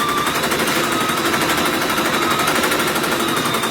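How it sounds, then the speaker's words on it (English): A quilting sewing machine drives edge-to-edge stitching across a Christmas stocking with a loud, rapid, steady mechanical rattle that continues without a break, close up and alone. "then just bring up the bobbin thread and then just start stitching"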